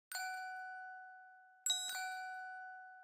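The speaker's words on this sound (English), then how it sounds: "And then I added some bells with this Glockenspiel one-shot." Two glockenspiel one-shot bell hits ring out in an R&B sample beat, each a bright struck tone that sustains and slowly decays, the second arriving about a second and a half after the first.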